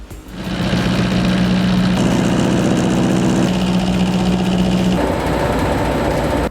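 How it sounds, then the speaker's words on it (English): A loud, continuous mechanical drone with a buzzing, vibrating hum comes from a rug cleaning machine beating dry soil out of an oriental rug, its pitch shifting slightly partway through, with no talk. "With our machine, we'll remove all the dry soil in 3 minutes with no damage to your rug."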